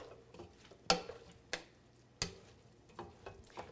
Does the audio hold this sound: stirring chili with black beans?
yes